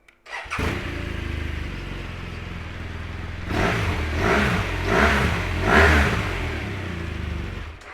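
A 2015 BMW R1200RS Sport SE motorcycle engine cranks and fires up, then idles steadily with a few throttle blips that swell louder, all close and without voices.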